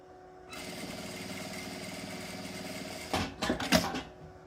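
A sewing machine runs a steady, even stitching whir while sewing a zipper onto a small clutch pocket, then stops with a few louder clunks and rattles near the end.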